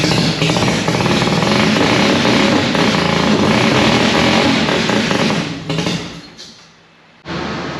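A Mazda RX4 race car engine with a new exhaust runs loud and close, a dense, rough drone that holds steady before sagging, dropping nearly away and picking back up at the end.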